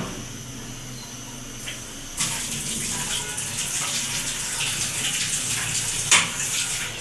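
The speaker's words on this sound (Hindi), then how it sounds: "और साथ साथ हम चावलों को धो लेते हैं।" Rice is washed under a running tap. Water gushes and splashes continuously at close range after a quieter start, with a brief clatter near the end.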